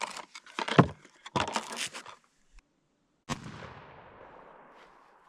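Sharp shotgun blasts from an ATI Turkey Fowl 20 gauge shotgun at an outdoor sight-in range, several loud reports with the last one trailing off into a long decaying echo.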